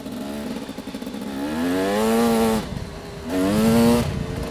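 A small two-stroke dirt bike engine revs up twice in rising, buzzing bursts, close by, with a lower idling drone between them.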